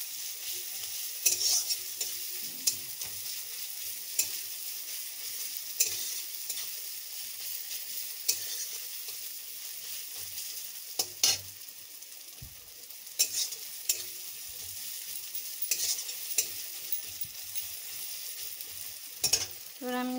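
Onions fry in oil in a pan while being stirred, a steady soft sizzle broken by scattered scrapes and clicks of the spoon, with no talk.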